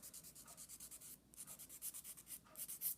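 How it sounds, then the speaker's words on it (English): Rhythmic scratchy sanding strokes on an acrylic nail, filing off glue by hand, quick back-and-forth rasps repeating close up, with a brief pause midway; no talking. "Now we're going to start sanding the glue off of the nail"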